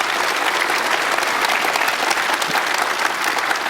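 A lecture-hall audience applauds steadily, a dense even wash of many hands clapping throughout, moderately loud and sustained with no pauses.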